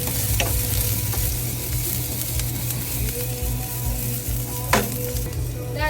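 Onion, ginger and garlic sauté in oil for adobo with a dense, steady sizzle under a low hum, with occasional scraping stirs and one louder scrape near the end, without talk.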